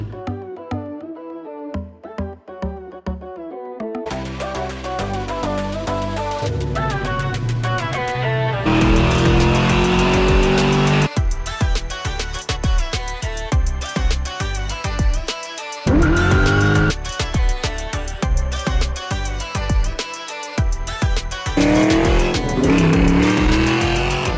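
A small block Ford drag car engine with Holley Sniper EFI idles roughly, then is revved hard in loud, close bursts, with choppy lumpy idle between the sharp throttle blips.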